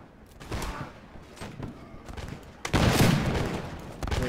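Musket volleys in a Mount & Blade Warband battle, a scattered crackle of distant shots followed by a louder, sustained burst of massed gunfire near the end, with no talk over it.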